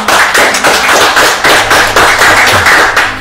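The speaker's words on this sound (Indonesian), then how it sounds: "Tepuk tangannya dulu." An audience claps loudly and close by, in even rhythmic bursts of about two beats a second, with no talk.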